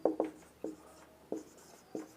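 Chalk or marker strokes on a classroom board, five short scratchy taps in an uneven rhythm, close and clear with no talking over them.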